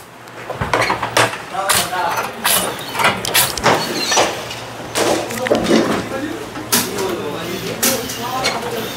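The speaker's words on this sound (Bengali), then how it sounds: "এটা ফ্রেমটা কাটিং হচ্ছে তাই তো" Photo frame cutting machine running in a frame-making workshop, giving a steady low hum under repeated sharp clattering cuts and knocks, close and loud, with people talking throughout.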